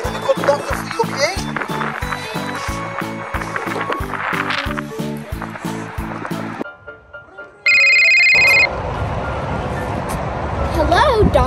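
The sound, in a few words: telephone ringing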